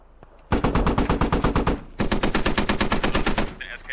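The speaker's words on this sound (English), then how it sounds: "Where are we taking fire from? I'm not sure where they're shooting from." Rapid automatic gunfire in the tactical shooter game Squad, with loud sustained machine-gun bursts that start abruptly, pause briefly, then resume in a steady rhythm of close shots.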